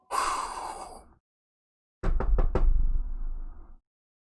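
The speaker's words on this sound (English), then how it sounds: "Superman knocks on the door." Four sharp knocks on a stage door ring out in quick succession, loud and close, after a breathy vocal sound and a pause.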